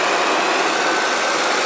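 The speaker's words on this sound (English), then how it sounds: "Let's take a look at the engine running on this 2003" A 2003 Ford Expedition's 5.4 liter Triton V8 with 123,000 miles runs steadily up close, a loud, even engine drone with no voices.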